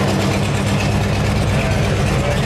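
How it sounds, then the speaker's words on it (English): Steady, loud engine rumble with a deep low drone from Harley-Davidson motorcycles running nearby, continuous with no pauses. "We have loud motorcycles."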